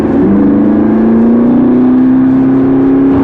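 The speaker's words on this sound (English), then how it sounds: "The exhaust note is extremely beefy, the throttle response is instant" A McLaren MP4-12C's 3.8-litre twin-turbo V8 revs loudly and steadily through a beefy exhaust, its pitch climbing as it accelerates, close and continuous.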